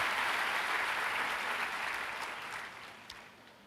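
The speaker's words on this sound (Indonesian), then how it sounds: "Boleh tepuk tangannya di-extend buat tim Praise and Worship." Sustained audience applause at a church Sunday service for the praise and worship team, a dense steady clapping that gradually fades toward the end.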